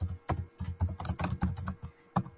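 Fast, steady typing on a computer keyboard, close and clear, with a dense run of crisp key clicks and brief gaps between bursts.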